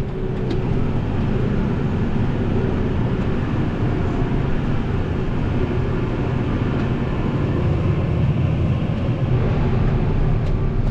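A heavy farm vehicle spreading lime across a field gives a loud, continuous engine drone and rumble from close by. The tone shifts only slightly, with no clearly marked gear change.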